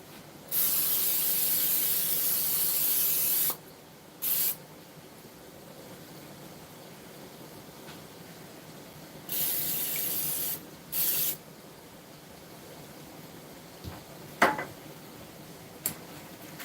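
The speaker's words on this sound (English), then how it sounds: "Now I'm just going to spray my pan with a little bit of Pam." Pam cooking spray hissed onto a pan over a kitchen sink in several bursts, two long sprays of about three seconds and a few shorter puffs, close and loud against a quiet room.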